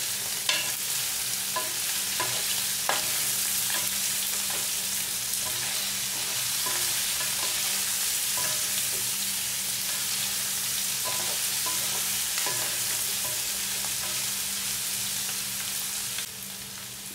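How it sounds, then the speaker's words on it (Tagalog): Creamy chicken fries in a pan while being stirred, a continuous sizzle broken by repeated scraping clinks of the utensil against the pan, close and with no talking. "so paghalo-haloin na natin"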